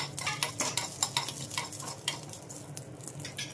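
Mustard seeds and dried red chillies pop and sizzle in hot oil for a wood apple chutney tempering, with quick crackling bursts, faint frying hiss and a spoon stirring and scraping the pan.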